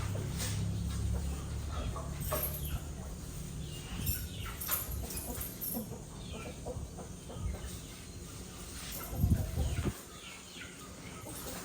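A chicken clucks intermittently at close range outdoors, short scattered calls over a low rumbling background with occasional footsteps and movement.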